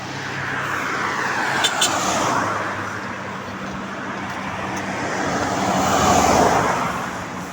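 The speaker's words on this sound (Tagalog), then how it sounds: "Pag summer, ang daming sasakyan ano." Busy roadway traffic in summer, a steady wash of cars and heavier vehicles passing, swelling louder toward the end as a vehicle goes by close.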